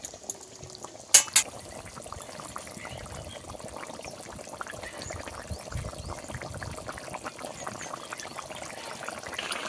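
Bogo fish curry simmers in a pan with a steady low bubbling and gentle liquid movement, close and moderately quiet, with a brief clatter near the start and no talking.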